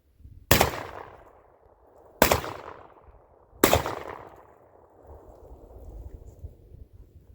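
A Panzer EG200 shotgun fires three loud, sharp shots of .357 rounds spaced about a second and a half apart, each followed by a rolling outdoor echo, then a low rumble of background noise.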